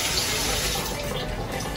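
Water poured into a pot of Jamaican pepper crawfish curry, a steady close rushing pour lasting nearly two seconds with no talk.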